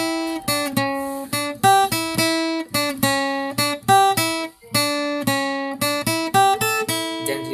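Lead guitar picks out the verse melody of the Ganesh Aarti "Ek Dantay Vakratundaya", clear separate plucked notes in a steady phrase, each ringing briefly before the next, played solo with no voice.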